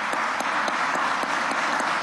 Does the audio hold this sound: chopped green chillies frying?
no